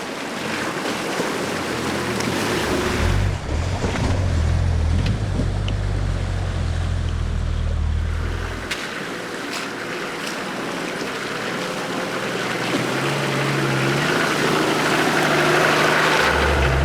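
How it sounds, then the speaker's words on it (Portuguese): Off-road vehicles ford a shallow stream on a trail in Albania, with a steady rush of water and engine rumble, a low droning motor pushing through the middle section amid continuous splashing. "esse riacho raso não representava nenhum problema para os veículos"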